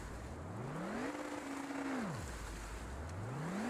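A self-built car in Stormworks, underpowered and fitted with a single gearbox, pulls away as its engine tone climbs, holds steady, drops sharply, then climbs again in one continuous drone with no talk.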